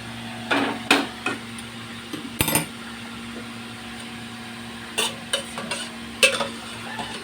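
Bottle gourd being stirred into boiled lentil dal in a pot, giving scattered soft scraping and clinking knocks against a steady low kitchen hum, with no talk.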